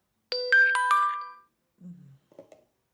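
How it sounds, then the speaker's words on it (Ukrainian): A phone notification chime plays a quick rising run of bright tones, then falls silent, followed by a few faint soft knocks, all fairly close and with no speech. "в мене тут повідомлення все приходить"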